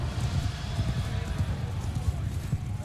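Cavalry horses galloping in Mount & Blade 2: Bannerlord, a steady rumbling patter of many hooves in a moderately loud battle mix with no clear gaps.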